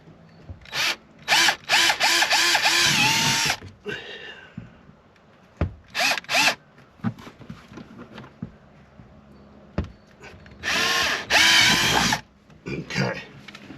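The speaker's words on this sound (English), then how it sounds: "we have the holes drilled" Several loud bursts of a power drill whirring in short runs, punching holes through plastic trim inside a Toyota Tundra, with pauses between them and some handling clatter, close by.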